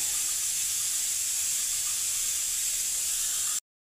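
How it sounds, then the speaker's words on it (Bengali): A pressure cooker boiling spinach releases a steady, loud hiss of steam that runs unbroken for a few seconds and then cuts off abruptly, with no voices. "পালক শাকটা আমি প্রেসার কুকারে সেদ্ধ করতে দিয়েছি বন্ধুরা"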